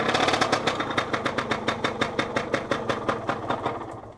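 A 50cc moped engine firing up and settling into a fast, loud, rhythmic idle, its regular putt-putt pulses close by and alone with no talking.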